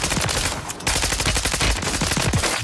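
Automatic weapon fire in Call of Duty: Warzone comes as rapid, loud, close bursts of shots with a brief pause between strings.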